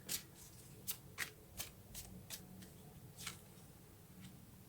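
Tarot cards are shuffled and drawn by hand, a series of quick crisp riffles and snaps in an irregular rhythm, close and quiet, with no voices.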